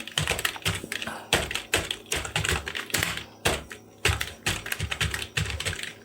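Steady typing on a computer keyboard while writing in Microsoft Word, with close, crisp key clicks in quick irregular bursts and brief pauses between runs of keystrokes.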